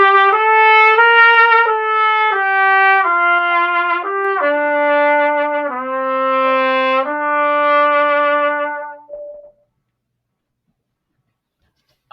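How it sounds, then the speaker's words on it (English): A solo trumpet plays a slow four-bar melody written for strings, with held, legato notes that are bright and close, then stops into silence. "this is what it would sound like if it were on the trumpet"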